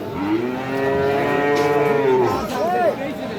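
A cow gives a long, loud moo close by at a cattle market, followed by a shorter second call, with faint background bustle.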